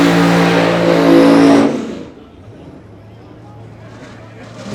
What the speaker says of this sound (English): The 69 Chevy Camaro from Deep Run, North Carolina. Cackling over there with the blower.